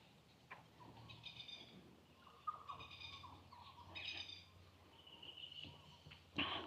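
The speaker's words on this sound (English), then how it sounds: "Plovers sound quite angry, as they do." Plovers at Warrina Lakes in Innisfail, Australia, give sharp, harsh calls in short, repeated bursts at a distance, faint over a quiet outdoor background with some low rumble.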